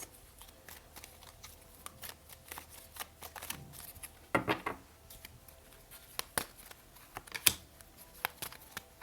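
Tarot cards being shuffled and laid down during a reading, a run of soft irregular riffles and flicks with a few sharper snaps, close and fairly quiet, with no voices.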